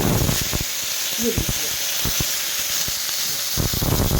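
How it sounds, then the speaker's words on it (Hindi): Eggplant pieces fry in a pan for an aloo baingan curry, giving a steady close hiss and sizzle throughout with scattered soft clicks, while someone talks over it. "बैंगन में देखिए भुन रहा है।"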